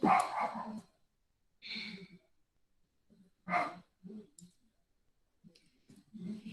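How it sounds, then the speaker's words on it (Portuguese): A small dog barks in short bursts from the background in a quiet room, several separated yaps spread across the moment with silent gaps between them. "se tiver um latidozinho aí no fundo, não se preocupe, é só meu cachorrinho querendo participar"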